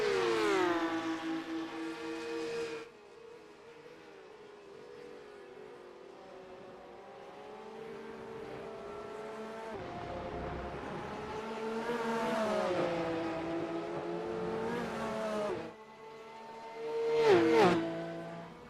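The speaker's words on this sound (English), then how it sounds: "in the battle for P1 currently between the Porsche Carrera 992 Cup cars" Porsche Carrera 992 Cup race cars racing at Road Atlanta, engines whining through rising and falling gear shifts as cars pass close and loud, fading out and then screaming back in with a sharp pass near the end.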